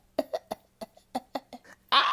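A woman coughs in a quick series of dry, close hacks, about eight in two seconds, ending with a louder burst.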